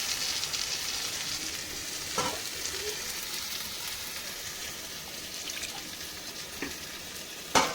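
Ginger, garlic, green chili and tomato paste with yogurt frying in a pan for mutton keema rajma, a steady broad sizzle with a few sharp spoon scrapes and knocks as it is stirred.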